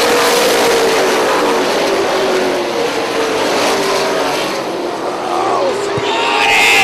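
Late model stock cars at a 2009 oval race, a loud continuous roar of engines sweeping past as the field gets under way, with crowd noise and an announcer's voice mixed in.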